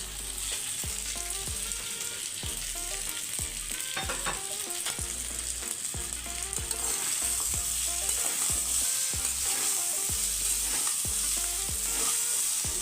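Chicken and soi pitha stirred and frying in a pan, a steady close sizzle with repeated scraping strokes of the spatula in a regular rhythm throughout, no talking.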